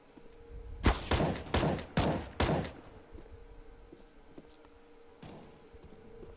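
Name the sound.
gunfire in a video game shooter match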